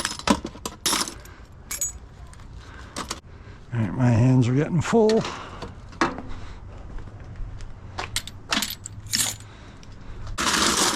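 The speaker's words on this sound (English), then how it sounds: "Another brass nut. Key. Key. So many keys." Metal keys and brass scrap, including brass nuts, clink and jingle as they are sorted by hand during street-scrapping cleanup, a string of sharp close metallic drops and rattles with a person talking partway through.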